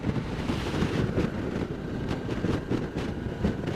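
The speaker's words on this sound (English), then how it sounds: "ooh, a little windy here, a little wind here" Steady wind buffets the microphone in a continuous low roar with gusty surges, no voices heard, while riding a Suzuki V-Strom 650 motorcycle on Highway 1.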